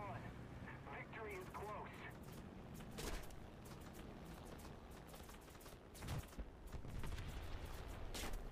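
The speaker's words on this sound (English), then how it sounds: "Yeehaw, what is shooting at me? It's machine guns." Machine-gun fire sounds in a video game as scattered sharp cracks and short bursts under a dense rumbling background of distant battle noise, with a voice talking over part of it.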